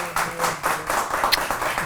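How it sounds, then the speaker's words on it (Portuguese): Audience applause on a Brazilian television talk show as a writer guest is introduced, a steady patter of clapping with some voices mixed in, moderately loud and filling the whole moment. "Agora eu quero que vocês aplaudam para valer."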